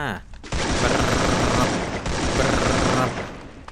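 Sustained automatic AK rifle fire in a mobile shooter game, a loud continuous burst lasting a few seconds with a brief pause, dense and close.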